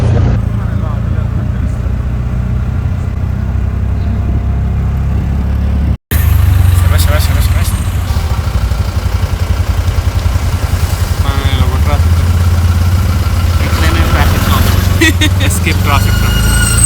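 Idling road traffic engines in Manali hold a steady low rumble under ongoing talk, broken by a brief dropout near six seconds, with scattered higher horn-like tones and vehicle noises after it.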